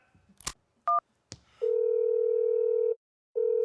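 Telephone tones before a call: a couple of short button beeps and clicks, then a long steady dial tone that stops and briefly resumes, close and clear with no talking.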